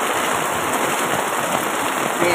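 Steady heavy rain pours down with a dense, constant hiss, loud and close, with no pauses.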